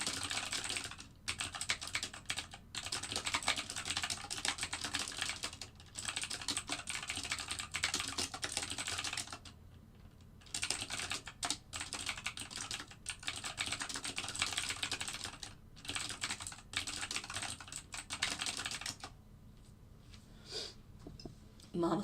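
Computer keyboard typing in quick, uneven bursts during live algorithmic trading, close and fairly loud, with short pauses between flurries and some talk now and then.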